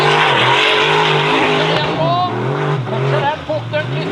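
A formula offroad race car's engine roars as it climbs a steep dirt track, revs rising and falling with wheelspin, loud and close under an excited commentator's voice.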